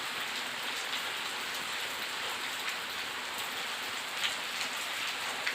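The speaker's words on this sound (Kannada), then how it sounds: "ಮಳೆ ಕಡಿಮೆ ಆಗ್ತದೆ." Heavy rain pours steadily onto surfaces, a dense continuous hiss with scattered sharper drop impacts, heard alone without voices and at an even level throughout.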